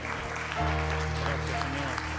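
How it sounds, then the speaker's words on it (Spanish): Congregation applauding for the Lord during a church service, a steady wash of clapping that swells after a brief pause and carries on beneath sustained tonal music or singing. "vamos a dar un fuerte aplauso al Señor"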